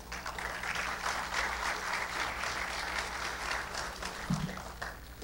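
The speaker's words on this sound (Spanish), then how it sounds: "vamos a recibir con un fuerte aplauso" Audience applause at a SENATI technical talk in Peru welcoming an engineer to the stage, a steady moderate wash of clapping heard from a distance in a hall, fading slightly near the end.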